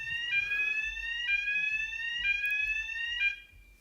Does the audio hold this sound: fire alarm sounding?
yes